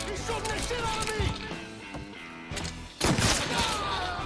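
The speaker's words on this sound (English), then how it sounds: "He's shooting the shit out of me." Bursts of gunfire in the Mafia III video game, with rapid rattling shots and impacts, mixed in among game sounds and players talking.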